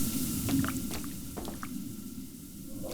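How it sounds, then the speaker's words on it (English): Bubbling inside a small submarine in the VR horror game Iron Lung, soft wet blips and gurgles scattered over a low, murky ambient rumble with no voices. "I heard bubbling."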